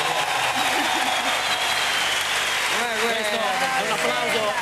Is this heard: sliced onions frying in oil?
no